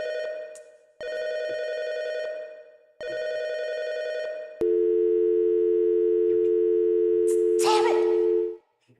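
Telephone tones in a FNAF fangame set in a diner: two repeated tone bursts, then a long steady tone. A voice cuts in briefly to react near the end.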